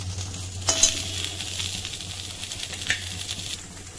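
Okra frying in a pan for vendakkai sambar, a steady soft sizzle with a few light scrapes and clinks of stirring, close and alone over a low background hum.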